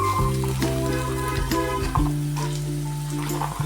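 Ginger and carrots fry in a pan with a steady sizzle beneath a sustained tonal melody of background music, no speech.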